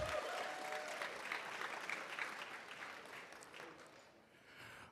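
Diners at an annual Black Excellence Dinner applaud in a steady wash of clapping that slowly thins and fades toward the end.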